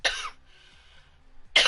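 Harsh coughing after a hit of smoke, the first of the day: a loud, close burst at the start, a quiet pause, then another strong cough at the end, with no talk.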